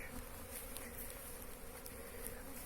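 Steady buzzing from many honey bees outside a hive in winter, a continuous droning hum with no voices, fairly quiet and even throughout.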